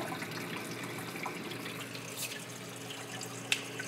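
A loud return pump runs in a Red Sea Reefer 250 reef aquarium, water pouring steadily into the return chamber with a continuous trickling wash and a brief drip near the end.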